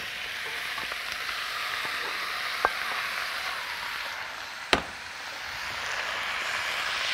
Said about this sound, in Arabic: ابتدي بقى احط كده الفراخ.